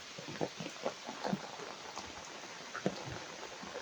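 Steady rain falling outdoors in Malaysia, a dense continuous patter with scattered louder drops standing out, fairly close and moderately loud with no talk.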